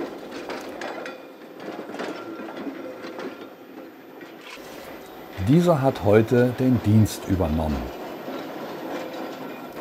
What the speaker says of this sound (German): Mit dazugehöriger Geräuschkulisse rumpelt die Straßenbahn durchs Gelände.